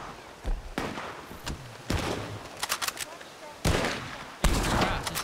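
Gunfire at a creature in Red Dead RP (RedM) comes as rapid close shots in repeated bursts, some loud and some softer, mixed with shouting voices.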